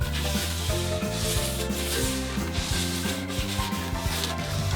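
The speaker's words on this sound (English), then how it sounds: "For this one, we are going to attempt with a scuff pad, and we are using cherry." A scuff pad rubs cherry wood stain onto a wooden chair part with a steady, continuous scrubbing texture that runs the whole time under prominent pitched musical tones.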